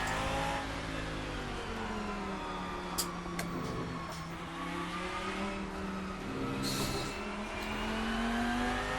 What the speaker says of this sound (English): Got a nice mix of engine, exhaust, transmission